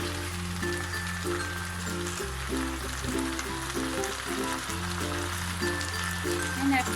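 Carrot frying in a pan for spring roll filling gives a steady sizzle and crackle under a constant low hum and soft background music.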